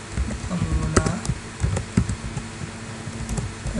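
Code being typed on a computer keyboard, a close, continuous run of quick, uneven key clicks with occasional louder strikes and no voices.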